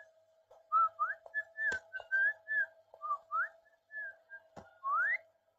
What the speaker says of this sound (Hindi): सीटी बजाता हुआ आ रहा है